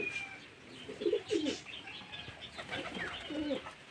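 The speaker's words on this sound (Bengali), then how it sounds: "দেখুন পায়রাগুলো দেখুন পুরো ফ্রেশ চকচকে পায়রা এগুলো" Healthy, glossy domestic pigeons coo in a few soft, low, rolling bursts close by, set against a faint background hiss with no talking.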